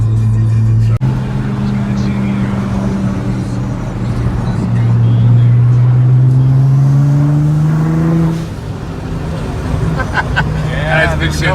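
Nissan GT-R accelerating with its turbos spooling, heard from inside the car. A loud engine drone rises in pitch through the gear, drops briefly, then builds again while people talk over it.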